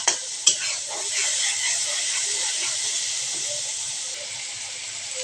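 Pointed gourd curry with turmeric frying in a pan while being stirred: a steady, close hiss and sizzle, with a couple of sharp utensil knocks at the start and no talking.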